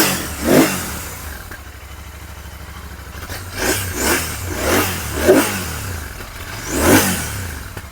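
A second-hand 2020 TVS Apache RR 310 motorcycle idles nearby at a used bike market in Bangalore, its engine blipped through about six sharp throttle revs, one early and a quick cluster later, each rising and falling back to a steady idle.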